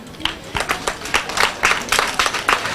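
A group of secondary-school students claps for their teacher Daniel in a loud, fairly close burst of hand claps that falls into a loose rhythm and keeps going throughout, with no talking over it.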